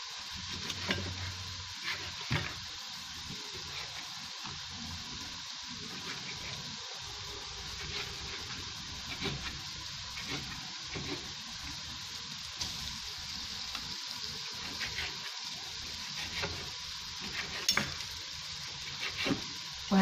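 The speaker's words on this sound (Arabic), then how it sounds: "وغادي نضيف الدجاج مقطع" Chopped chicken pieces fry in a pot for a quick Ramadan soup, giving a steady hiss and sizzle broken by repeated close scraping and clattering as they are stirred.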